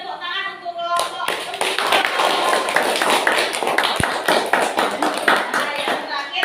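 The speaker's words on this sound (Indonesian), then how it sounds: "Beri tepuk tangan untuk kelompok." A classroom group gives a round of clapping for a team presenting its work, with uneven, brisk hand claps, a few crisp individual slaps and a sharp thump standing out, and some voices in the room.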